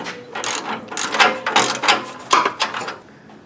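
A ratchet wrench loosens 10 mm nuts holding an air-injection pipe hanger on a third-generation car, giving several close, loud bursts of rapid metallic clicking with short pauses between strokes.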